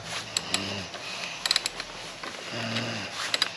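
Ratchet wrench loosening the chain adjuster nuts on a JR50 race motorbike, a few quick metallic clicking bursts close by with brief pauses between strokes.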